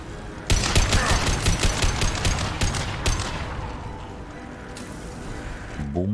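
Rapid automatic gunfire in the Mass Effect 2 video game rattles out in a fast, loud burst of closely spaced shots, then trails off into a fading echo with a few faint clicks at the end.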